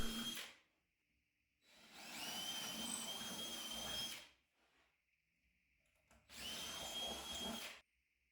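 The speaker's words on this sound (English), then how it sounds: "drill a hole in each part of the L-shaped leg" Power drill boring holes through wooden parts of an L-shaped shop desk leg: three steady whining runs, close and fairly loud, separated by short silent pauses.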